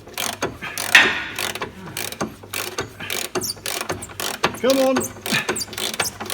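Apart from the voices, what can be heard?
ratchet loosening Smart Fortwo suspension arm bolt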